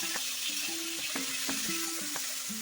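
Dal with ginger paste, sugar and salt sizzling in a pan, a constant bright frying hiss with faint spoon scrapes and taps at irregular intervals.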